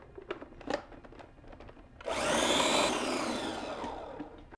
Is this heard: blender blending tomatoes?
yes